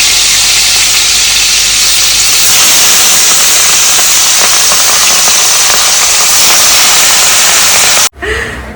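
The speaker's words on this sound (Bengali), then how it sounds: "আর এদিকে কাতলা মাছ ভাজছি।" Pieces of katla fish frying in hot oil in a Bengali home kitchen give a loud, continuous close sizzle with faint crackles and pops, ending abruptly.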